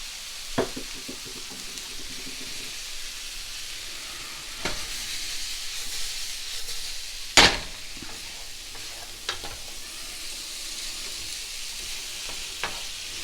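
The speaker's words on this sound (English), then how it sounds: "I'm going to take the proteins now and warm them up" Proteins for Singapore noodles sizzle steadily as they warm in a hot pan. Occasional sharp scrapes and clatters of stirring break in, one louder jolt near the middle, with no talking.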